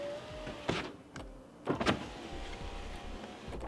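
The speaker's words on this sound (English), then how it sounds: "we're going to roll the window up and down 5 times to ensure this seat's in place" Power window on a 2010 GMC Yukon fitted with side window air deflectors, a faint motor whirr rolling the glass up and down with soft clunks and cracks as the window stops, heard close inside the vehicle.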